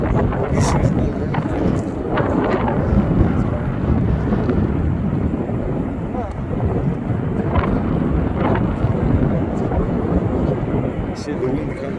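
Strong wind buffets the microphone beside the runway at Kingsford Smith airport, a constant loud rumbling roar with a voice speaking intermittently underneath.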